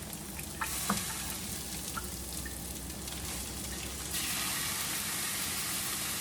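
Minced garlic and beef fry in a pan for Persian-style macaroni, giving a steady, close sizzle with a few light stirring clicks. The hiss swells louder partway through and keeps going without pause.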